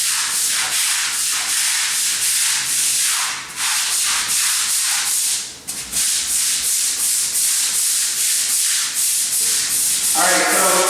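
A stiff brush scrubs a 60-year-old cement garage floor coated in fizzling etching solution, making a loud, continuous rhythmic rasping with a couple of brief pauses. A short bit of speech comes at the end.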